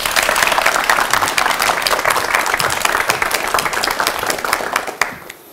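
Sustained applause from a seated audience welcoming a professor's lecture at a military education concert, dense and even for several seconds before fading out abruptly at the end.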